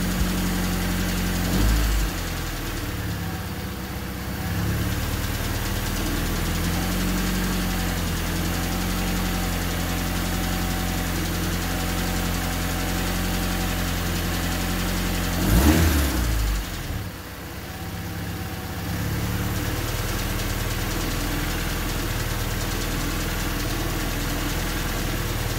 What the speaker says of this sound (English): Now it's time to fire up the engine and see if the rewiring of the injectors made a difference on the idle issue.